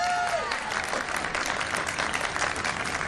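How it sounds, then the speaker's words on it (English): An audience at a Thanksgiving Day special event claps in sustained, dense applause that holds steady throughout at moderate volume. "And you should have clapped."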